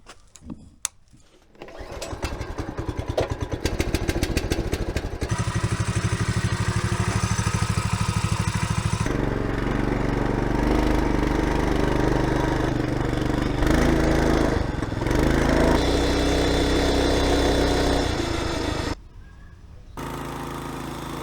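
A small mini bike engine starts up outdoors on a mild February day and runs with a steady buzzing drone, its revs shifting several times before cutting off near the end.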